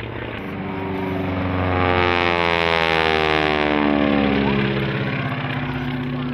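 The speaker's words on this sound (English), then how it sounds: "You can hear the pop of the cylinders of that radial engine." A radial engine trainer airplane flies overhead at an airshow over water, its propeller drone steady and loud with a rumbling, harmonic engine tone that swells as it passes close by.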